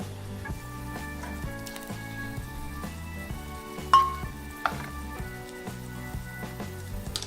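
Pork fries in oil with green onions and pepper in a pot for spicy soft tofu stew, a moderate steady sizzle over a low hum, with a couple of louder clinks partway through.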